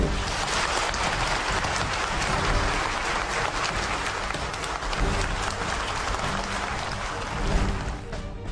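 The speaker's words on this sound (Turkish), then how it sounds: "Yargı mensupları briefinglerin ardından askeri dakikalarca ayakta alkışlıyordu" Members of the judiciary give soldiers a prolonged standing ovation, the clapping dense and sustained from a large room of people, holding steady with slight swells and no pause throughout.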